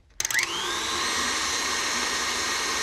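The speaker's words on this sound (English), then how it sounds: "we're gonna keep beating it until the whisk releases the rest of the seeds" A stand mixer's whisk beats buttercream with a whole vanilla bean inside, starting with a few quick knocks, then settling into a steady, loud whirring hum that carries on unbroken, with no talk.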